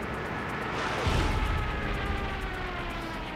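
Attack planes in Company of Heroes 3 roar overhead amid battle noise, a low rumbling swell building around the one-second mark and holding steady under a dense wash of combat sound.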